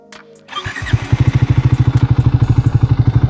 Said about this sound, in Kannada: ಇದರ ಎಕ್ಸಾಸ್ಟ್ ನೋಟ್ ಕೇಳಿಸ್ಬಿಡ್ತೀನಿ ನಿಮಗೆ.